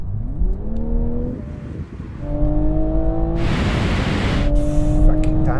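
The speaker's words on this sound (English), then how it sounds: "Now we're going to have a rolling race from 50 miles an hour." A BMW M440i and a Toyota Supra accelerate side by side in a rolling drag race from 50 mph, engines climbing through gears with audible shifts, loud and close, cabin noise and wind rising.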